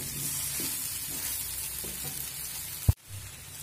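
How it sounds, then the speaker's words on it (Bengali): Pumpkin and soy chunks with spices are stir-fried over a medium flame, a continuous hiss of sizzling oil with light stirring scrapes and one sharp knock near the end. "মিডিয়াম ফ্লেম করে 1 থেকে 2 মিনিট খুব সুন্দর করে কষিয়ে নেব"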